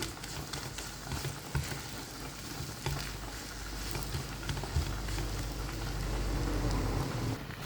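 Masala for chicken liver fry sizzles steadily in a pan, a dense crackling hiss like light rain that continues without a break and grows a little fuller toward the end, with no talking.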